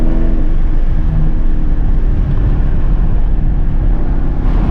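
A Mercedes E63 AMG engine roars close and loud, its deep, heavy rumble holding steady throughout.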